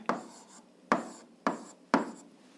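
An algebra solution being written out by hand, heard as four short, close scratchy strokes of pen or chalk at an uneven pace, with no talking.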